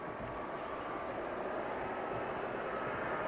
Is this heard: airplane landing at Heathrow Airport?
yes